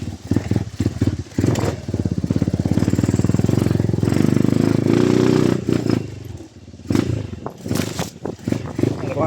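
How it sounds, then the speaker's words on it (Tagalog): Motorcycle ridden along a rural trail, a loud close engine drone with steady rhythmic throbbing that rises and dips, plus clattering and scraping bumps over rough ground. "Motor ni Pinuno yung ginagamit namin."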